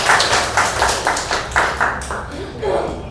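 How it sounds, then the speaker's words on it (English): A presentation audience at a school forum breaks into steady, loud clapping close by, rhythmic hand claps that fade toward the end as the applause dies down. "let's give them a big applause"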